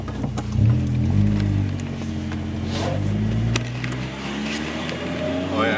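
A Honda B18 engine idles roughly in an Acura, with a low, uneven rumble and slight wavering in the revs, heard close up under faint background noise.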